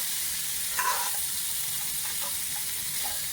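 Chicken fried rice with shrimp sizzling in a pan, a steady loud hiss up close with faint stirring scrapes underneath.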